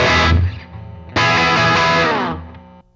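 Electric guitar through the Fine Classics Vintage Vibe amp simulator with overdrive and reverb: a loud distorted chord rings and fades, then a second sustained chord swells and decays into a reverb tail.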